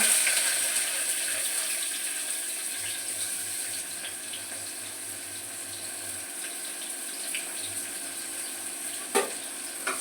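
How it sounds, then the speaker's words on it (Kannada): Chopped onion sizzles in hot oil and ghee, a steady close hiss of frying that eases slightly, with a brief clink of a utensil near the end. "ಈಗ ಎಣ್ಣೆ ಕಾದಿದೆ, ಮತ್ತು ಎಣ್ಣೆ ಮತ್ತು ತುಪ್ಪ ಹಾಕಿದ್ನಲ್ಲ, ಇದಕ್ಕೆ ಈಗ 1 ನೀರುಳ್ಳಿ ಕೊಚ್ಚಿದ್ನಲ್ಲ ಅದನ್ನೆಲ್ಲ ಹಾಕ್ಕೊಳ್ಬೇಕು"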